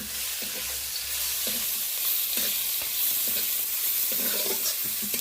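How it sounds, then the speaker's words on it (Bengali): Chopped onion with green chilies fries in hot oil, a steady close sizzle and hiss under repeated scraping stirs of a spatula in the pan, no voices. "ফোড়নের সাথে পেঁয়াজটা দিয়ে বেশ ভালো করে নেড়ে চেড়ে নিচ্ছি"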